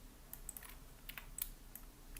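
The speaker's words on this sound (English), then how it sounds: "Turn on the symmetry by clicking X." The X key is tapped on a computer keyboard: a few faint, sparse clicks sound close in a quiet room, with no talking.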